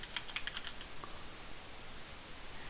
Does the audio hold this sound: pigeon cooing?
no